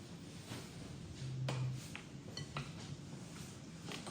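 Burgers go into a pre-oiled metal muffin tray with a few quiet clinks and scrapes of metal, faint and close, with no talking.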